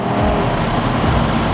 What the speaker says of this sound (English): So it'll take it to the red line and then it'll shift.